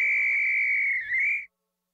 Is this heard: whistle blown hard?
yes